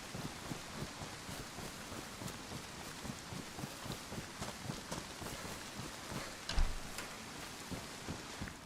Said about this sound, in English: how's the audio mix? Like, that wind and rain compared to my voice?